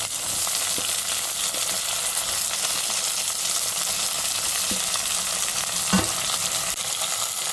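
Onion frying in oil for mixed vegetable pulusu as drumstick pieces, whole green chilies and cucumber pieces go in, giving a loud, continuous close sizzle with a few soft knocks and stirring scrapes.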